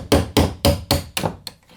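A hammer taps a punch up from the underside of a door hinge to drive out its pin: six quick, evenly spaced sharp metallic knocks, close and clear, the last ones lighter.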